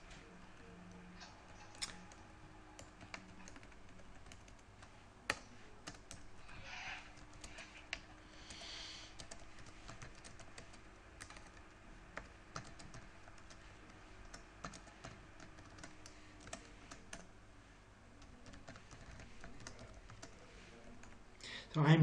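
Soft, irregular typing on a computer keyboard during a programming lecture, the sparse keystrokes and occasional sharper clicks faint and close against a steady room hum, with no one speaking.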